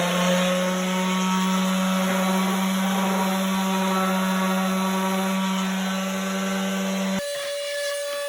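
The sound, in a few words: sanding wooden treasure box parts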